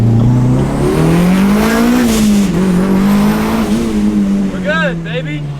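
A Mitsubishi Evo drives under boost, its loud engine droning and rising steadily in pitch over several seconds, with a brief squeak and a voice near the end.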